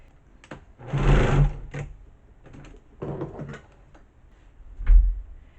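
A sewing machine with a heavy needle runs in short bursts of rapid stitching quilt binding, with clicks and pauses between runs, close up.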